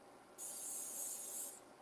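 Cooking spray hisses lightly into a skillet in one steady burst of a bit over a second, close and clear, then cuts off into quiet room tone.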